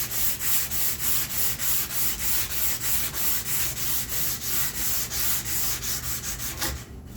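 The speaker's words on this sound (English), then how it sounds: "so now go back to the sandpaper" Sandpaper is rubbed back and forth over wood for a spice rack in quick, even strokes, a rhythmic scratchy rasp repeating about three times a second. It is close and alone, then stops abruptly near the end.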